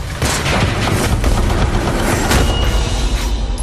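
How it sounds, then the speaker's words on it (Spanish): Police open fire in a reenacted shooting, a dense, continuous burst of loud gunfire with overlapping shots and booming reports that fills the whole stretch without pause. "De pronto los policías abrieron fuego."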